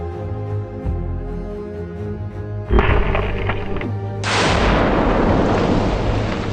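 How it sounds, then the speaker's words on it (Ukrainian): A demolition charge explodes in a low rumbling boom, followed by a sustained roaring crackle of debris and noise as it destroys a military shelter, loud and close, with no voices. "Вибух руйнує укриття."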